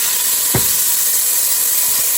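Frozen peas and carrots sizzle in a hot stir-fry pan over high heat. A loud, steady hiss fills the whole stretch, broken by a brief clink partway through.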